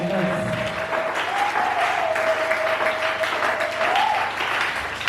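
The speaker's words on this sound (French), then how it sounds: "Acclamez fort." A church congregation applauding together, sustained dense clapping throughout with a steady held musical tone and some voices mixed in.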